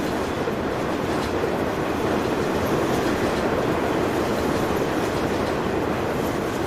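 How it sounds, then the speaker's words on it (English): In the Farming Simulator 19 video game, a train rumbles past as a steady, loud, broad roar with faint clickety-clack of wheels, continuous and close, with no talk over it. "God, that train is so loud."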